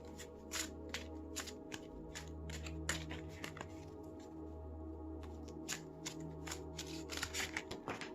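Oracle cards shuffled by hand, a steady run of crisp riffling flicks and slaps repeating through the whole stretch over a low background hum, with a few louder card snaps near the end.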